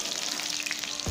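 Onions sizzle and crackle in hot oil in a kadai over a low flame, a steady, close frying hiss with no talking, while cooking duck meat curry.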